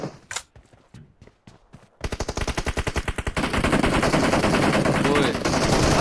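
Rapid automatic gunfire from a PUBG team deathmatch match, starting with a few scattered single shots, then a fast steady burst that swells into dense continuous firing, close and loud.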